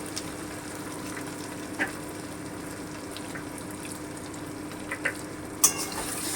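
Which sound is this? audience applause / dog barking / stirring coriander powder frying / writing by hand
stirring coriander powder frying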